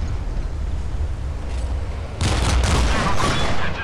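Main guns of the IJN Yamato battleship fire in the naval combat game Modern Warships: a steady background hum gives way midway to a loud, sustained broadband cannon blast that rumbles on to the end.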